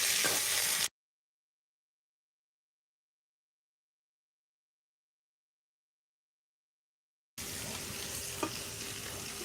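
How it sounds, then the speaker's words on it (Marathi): Onions sautéing in oil for kanda poha in a village kitchen: a loud, crackling sizzle with stirring, heard in two short bursts at the start and end with a long silence between. "कांदा आपला चांगला परतून येतो"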